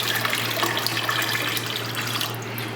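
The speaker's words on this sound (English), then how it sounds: "I'm adding water into this container." Water pours steadily into a container with a continuous splashing stream and a low background hum, part of a white sage distillation setup.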